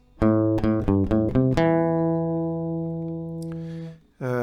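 Plucked acoustic guitar notes in a minor key, a quick run of picked strings that then rings out into a long sustained chord before a final pluck.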